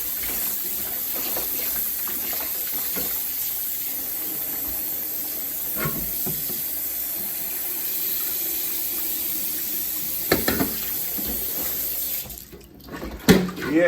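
Tap water runs steadily into a kitchen sink while oxtail is washed, a continuous hiss with occasional clinks and splashes, cutting off near the end.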